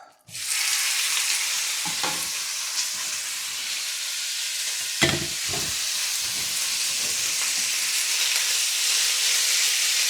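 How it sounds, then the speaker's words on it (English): Sliced pork dropped into a pan of oil heated up for chili con carne: a sudden loud sizzle bursts up at once and stays strong and steady, with a couple of brief utensil clatters partway through. "just bring that up to temperature with a bit more oil, and in goes the pork"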